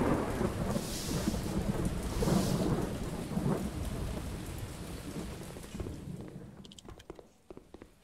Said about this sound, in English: it's been non-stop raining for at least 25